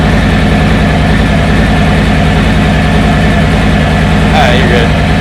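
A Harley-Davidson motorcycle idles loudly and steadily up close as its clutch is slowly let out, a deep, rumbling, unbroken drone with no change in pace.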